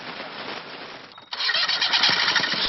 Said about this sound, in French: sauf si on ajoute à la voile un moteur